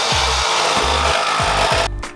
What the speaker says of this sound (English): Screw it, Sawzall.